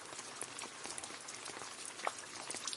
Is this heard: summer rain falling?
yes